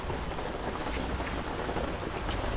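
Steady rain falling outdoors in a barangay in the Philippines, a dense continuous patter of drops with broad hiss and no voices, even and unbroken throughout.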